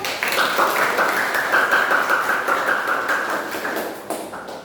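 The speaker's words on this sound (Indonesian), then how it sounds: "tepuk tangan semua" A room full of vocational school students applauds together in a dense, steady burst of clapping that carries on for several seconds before easing slightly.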